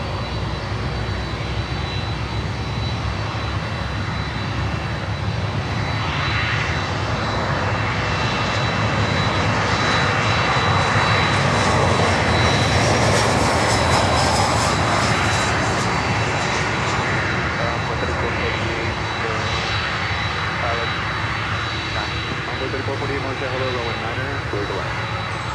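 A USAF C-17 jet aircraft roars steadily at an airport, its engines a loud, continuous broadband rumble and whine swelling slightly mid-clip, with radio or voice chatter faintly beneath.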